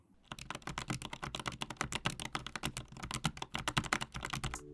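Keys are typed quickly on a Turtle Beach Vulcan II Hall-effect keyboard fitted with dampening rings. A fast, continuous run of soft, muted key clacks sounds close up with no voices.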